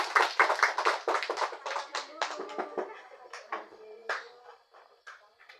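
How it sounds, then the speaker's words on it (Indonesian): A seventh-grade class breaks into applause, a dense burst of many hands clapping that thins to scattered claps, with faint children's voices underneath. "Tepuk tangan untuk kita semua."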